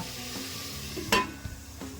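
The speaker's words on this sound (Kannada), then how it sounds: "ಈ ತರಕಾರಿಗಳೆಲ್ಲ ಒಗ್ಗರಣೆಯಲ್ಲೇ ಸ್ವಲ್ಪ ಬಾಡ್ತಾ ಇರಲಿ" Vegetables softening in a tempering of oil for a sprouts sambar, a soft, low sizzle with a brief louder scrape of stirring partway through.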